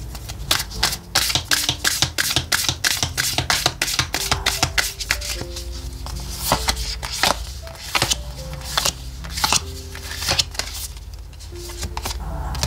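Oracle cards are shuffled by hand in rapid, rhythmic riffling bursts, crisp close-up flutters repeating steadily over a long stretch under soft background music.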